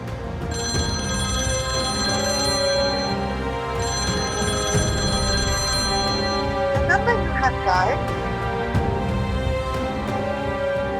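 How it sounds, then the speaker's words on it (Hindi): A telephone rings in a scene from a Hindi-Urdu TV drama, with repeated bright electronic ring bursts at a steady rhythm over background sound. "फोन उठा मनाहिल।"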